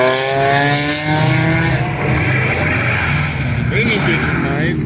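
A car, likely a Subaru BRZ, revs hard and spins its tires at a rev and two-step battle car meet. Rising and falling engine whines sit up close, while spectators shout loudly over them.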